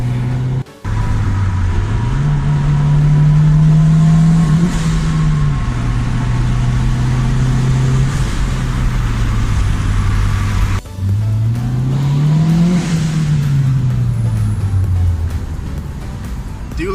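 Turbocharged Honda D16 engine in a two-door car revving repeatedly, its low pitch sweeping up and settling back down in several long rises, loud and close with a steady hiss over the top and a brief cut near the start.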